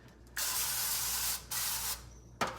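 Cooking oil sprayed from a can onto a roasting pan in a home kitchen, in three hissing bursts: a long one, a shorter one, then a brief final spritz, close and alone.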